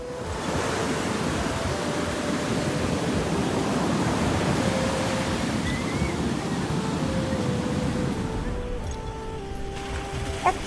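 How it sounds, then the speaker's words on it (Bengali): Ocean surf on Puri beach in Odisha rolls in a loud, continuous roar of breaking waves that fades slightly toward the end, with no voices over it. "আর সেই ঢেউয়ের গর্জন"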